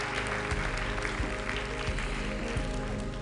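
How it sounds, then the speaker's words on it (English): Audience at the One Health Summit in Lyon breaks into applause, a dense, steady wash of clapping that holds at an even level for about three seconds. "yes, please, you can applaud him"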